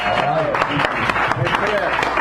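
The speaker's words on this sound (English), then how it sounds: "Give Chris a round of applause, or an oval" Brief scattered applause from a small café audience at a poetry reading, light clapping mixed with voices and crowd chatter over roughly two seconds.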